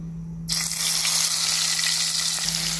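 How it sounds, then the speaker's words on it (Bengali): Prawns drop into hot mustard oil in a pan and burst into a loud, steady sizzle that holds strong right after the start. "মাস্টার্ড অয়েলটা গরম হতেই আমি প্রনগুলোকে এর মধ্যে ঢেলে ফ্রাই করছি"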